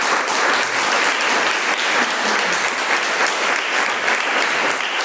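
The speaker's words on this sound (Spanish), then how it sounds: "Dale un aplauso al Señor por su gloria." Church congregation applauding during a sermon, a dense and continuous roar of clapping that stays loud and even from start to finish.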